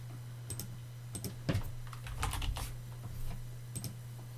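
Keys on a computer keyboard are tapped in irregular short bursts while commands are entered in a Raspberry Pi 5 terminal, close and fairly quiet over a low steady electrical hum, with no talking.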